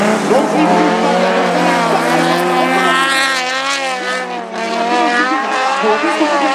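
Folkrace cars thunder around a dirt track in a senior A-final at the Motala festival, with loud, overlapping engine roars rising and falling in pitch and tires squealing, while a commentator talks over the racing.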